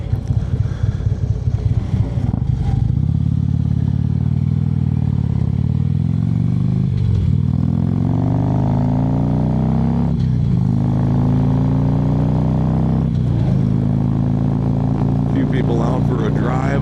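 A motorcycle on a rural road makes a loud, continuous engine and exhaust roar that climbs in pitch through several gear changes, mixed with wind rush.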